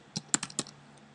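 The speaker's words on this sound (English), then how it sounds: "I would just type cnn.com" Several quick keystrokes on a computer keyboard, a short burst of light clicks typing a web address, close and quiet.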